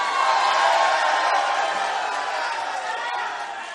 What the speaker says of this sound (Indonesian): Silakan berikan tepuk tangan yang meriah.